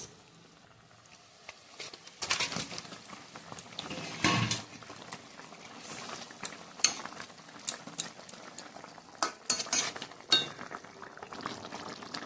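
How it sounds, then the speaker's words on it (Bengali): Fish pieces go into a boiling fish curry, with bubbling liquid, clattering spoon and pan knocks and irregular splashy bursts, close and fairly quiet. "মাছের ঝোল ফুটে উঠেছে, দিয়ে দেবো মাছ।"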